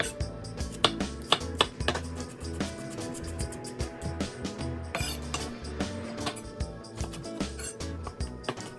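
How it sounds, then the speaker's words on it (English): A knife chops white onion and serrano peppers on a cutting board in repeated, fairly quick strokes, with irregular rhythm and a few clinks of utensils, close and distinct. "we're also going to continue chopping up some white onion and some serrano peppers"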